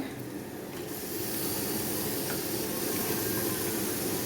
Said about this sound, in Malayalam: ഇനി നമുക്ക് ചിക്കൻ ചേർത്ത് കൊടുക്കാം